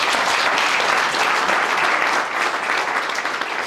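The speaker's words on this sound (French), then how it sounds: "je vais demander quand même une rafale d'applaudissements encore une fois s'il vous plaît" A burst of applause from an audience, dense and loud throughout, a continuous wash of many hands clapping with no voices over it.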